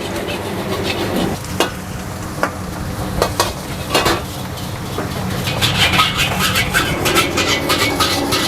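Mie goreng noodles, level 3 spice, stir-fried in a wok at a small food stall: a steady sizzle with scraping and clanking of a spatula against the pan, growing busier and louder toward the end.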